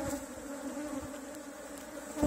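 A swarm of defensive Apis honey bees buzzing close by, a steady droning hum with individual bees passing near the microphone.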